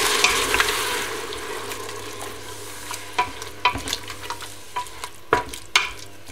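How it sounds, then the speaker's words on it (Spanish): Wine poured into browning beef for a beef stew, first a loud hissing sizzle that fades, then repeated close scrapes and clanks of stirring in the pot over a lower steady frying bubble. "Ya lo tenemos casi doradito. Le añadimos el vino."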